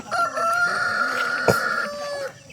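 A Rhode Island rooster crows nearby, a long strained call with a brief thump partway through, other fowl faintly in the background.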